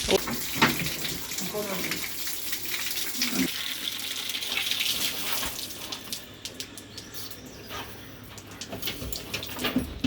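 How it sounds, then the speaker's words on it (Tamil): Water keeps running from a household pipe after a rise in pressure, flushing out dirt; a steady splashing flow continues throughout, with voices talking over it and a dog and birds faintly in the background. "அப்புறம் இன்னும் தண்ணி வருது"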